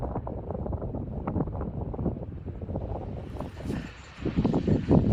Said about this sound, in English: Wind is a little strong